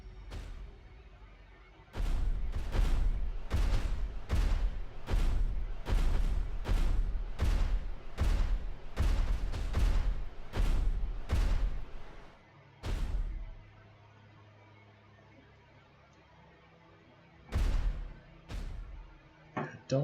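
Long-range weapons in the Adeptus Titanicus: Dominus video game fire a rapid series of heavy booming shots, about a dozen in quick succession, then a pause and a few more blasts near the end.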